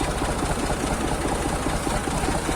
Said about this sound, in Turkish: Bir yandan traktör sürüyorum.